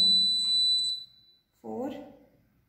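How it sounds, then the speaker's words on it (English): An Arduino visitor counter's buzzer sounds a steady high electronic tone for about a second to warn of an overcrowded room, then stops, followed by a brief voice. "the room is overcrowded and the buzzer makes a buzzing sound"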